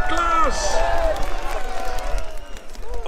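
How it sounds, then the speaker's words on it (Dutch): A crowd at a Sinterklaas arrival parade applauds and cheers for Sinterklaas, excited high voices shouting and calling over scattered clapping for a few seconds. "Applaus voor Sinterklaas!"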